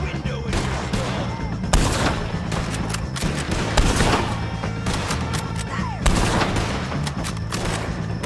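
Dense gunfire erupts during a shootout with the O'Driscolls in Red Dead Redemption 2, with repeated loud rifle and pistol cracks and booming hits arriving irregularly and overlapping throughout, and voices shouting underneath.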